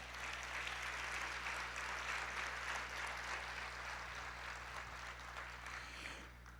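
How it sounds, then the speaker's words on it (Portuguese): A church congregation claps together in sustained, fairly faint applause over a low steady hum, fading slightly toward the end with no speech. "Vamos aplaudir ao Senhor."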